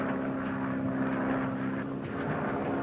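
A propeller airplane's engine drones at a steady, even pitch throughout in flight, moderately loud and unbroken, with no voices.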